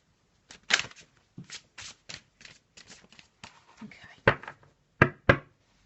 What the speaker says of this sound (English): I'm just going to have a little shuffle and pop down a card for today.